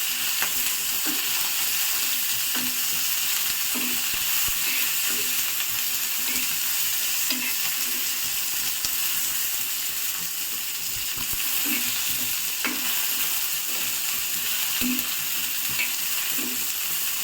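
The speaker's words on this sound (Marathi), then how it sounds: "आता आपल्याला याच्यामध्ये हे जे लसूण आहेत ते सोडायचे फ्लेम स्लो ठेवा" Garlic and green chillies fry in oil over a low flame for Maharashtrian mirchi thecha, giving a constant bright sizzle with regular soft ticking taps throughout and no voices.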